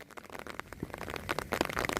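Heavy rain falling during an outdoor cricket match, a dense, crackling patter of drops hitting surfaces, steady and moderately loud throughout.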